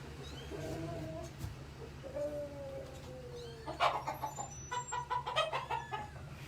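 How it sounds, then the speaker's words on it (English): Polish roosters cluck and squawk in bursts on a farm over a low steady engine-like hum, fairly close, with no one speaking. "roosters in the back here. So we have a few of my Polish roosters."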